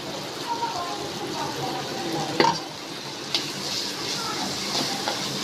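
Jackfruit with ground shrimp and onion paste frying gently in a pan on low heat, a soft continuous sizzle with a couple of light spoon knocks, close and even.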